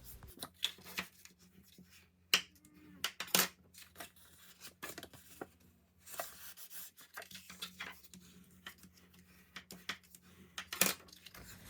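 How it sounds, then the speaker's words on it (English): Paper being creased along score lines with a bone folder during papercraft work: repeated close, dry rubbing and scraping strokes with small taps and clicks, uneven in rhythm and with no talking. "I like to use a bone folder because I think it gives sharper fold lines"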